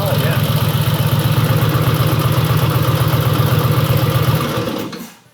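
A rare old motorcycle engine idles close by, a loud, steady, rapid chugging that cuts off abruptly after about five seconds.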